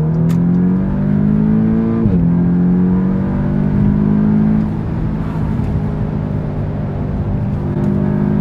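An Audi S3 accelerating hard from inside the car, the engine note rising loudly and continuously, with a brief dip at a gear change before climbing again, steady road and engine roar throughout.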